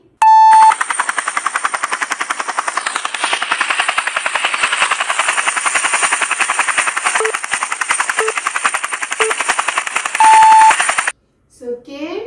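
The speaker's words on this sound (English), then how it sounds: "Yes, this is a sound of a helicopter." A helicopter sound effect plays as a loud, rapid and perfectly regular rotor chop that continues without a break, framed by short electronic beeps. A voice starts briefly right after it stops.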